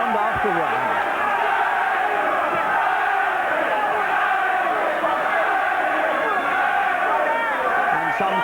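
A boxing crowd of about 3,000 roars for Dennis Andries in his bout with Jeff Harding, a dense, continuous cheer that fills the hall with no break.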